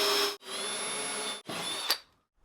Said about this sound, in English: I'm going to pre-drill a couple of holes along these channels just to hold that in place